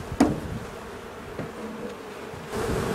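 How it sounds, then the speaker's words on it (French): Honeybees fanning at the entrance of a hive just after an inspection in spring, a steady low buzzing hum with a few louder passes of single bees close by. "Là, elle ventile, pourquoi? Parce que j'ai visité la ruche, donc là, elles sont en train de battre le rappel."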